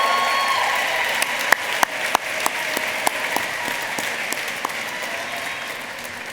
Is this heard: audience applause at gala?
yes